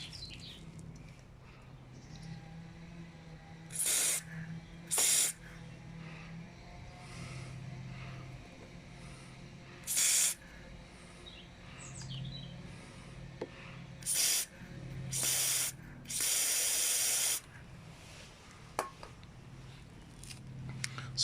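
Several short hissing bursts of silicone aerosol spray blown into a chainsaw's oil hole, close by, one long blast among them, over a steady background hum and faint chirping.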